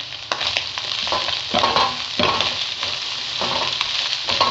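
Pork meat and garlic fry in a pan, a loud continuous sizzle broken by repeated scraping stir strokes, close up with no talking.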